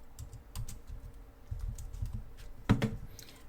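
Keys on a computer keyboard clatter in a quick, uneven run of close taps during a Python programming lesson, ending in a couple of firmer strokes, with no talking over them.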